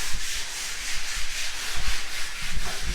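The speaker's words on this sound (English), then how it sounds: "we're working on sanding and skim coating" Steady abrasive rubbing of sanding on a skim-coated wall, continuous scratchy strokes with slight rhythmic pulses, close and fairly loud, no voices.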